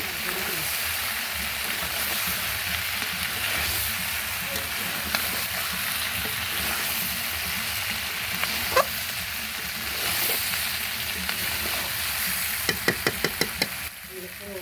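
Meat sautéing in a pan in a village kitchen, a steady sizzle and fry running throughout, with occasional knocks and a quick burst of taps near the end, and a voice speaking over it.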